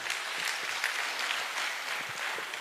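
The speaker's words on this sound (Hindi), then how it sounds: "दोनों हाथ खड़ा करके आपकी तालियों का साथ चाहूंगा" Audience at a motivational event in Nainital clapping steadily with both hands raised, a dense, even patter of many hands filling the hall for a few seconds with no voices over it.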